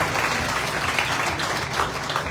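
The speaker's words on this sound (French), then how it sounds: "Applaudissez encore plus fort pour ce témoignage." Church congregation applauding at a Sunday worship service, a steady wash of many hands clapping at even loudness throughout.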